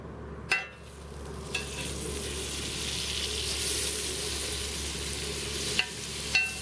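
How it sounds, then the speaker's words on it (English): Butter sizzles on a hot griddle, a steady broadband frying hiss running the whole way with a few sharp scrape or tap clicks from a spatula; close and alone, no talking. "We're going to throw some butter on the griddle."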